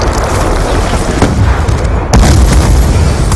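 Sticky grenade blasts in Black Ops 2 on the Slums map amid continuous gunfire, with a loud burst around the two-second mark over dense, chaotic combat noise.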